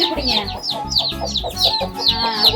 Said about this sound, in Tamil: கோழி வருது கொத்த போகுது